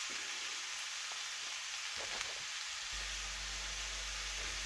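Onion and baby Bella mushrooms frying in oil in a pan, a steady close sizzle and hiss running throughout with no talking.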